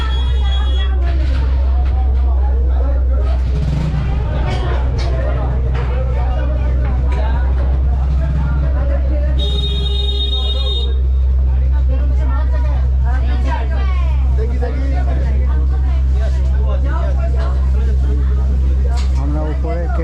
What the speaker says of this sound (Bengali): এটা ইঞ্জিন রুম।